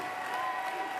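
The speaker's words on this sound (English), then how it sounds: "you can hear the Southwestern fans as they applaud the effort for Mr. Gentry tonight" Southwestern fans applaud at a men's college basketball game in the 2013 Red River Conference Tournament, SAGU versus Langston, producing steady, dense clapping from a crowd that fills the gym evenly throughout.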